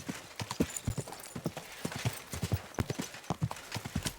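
Horse hooves clip-clop steadily at a walking pace in Kingdom Come: Deliverance II, with crisp, close hoof strikes over a hiss of outdoor ambience.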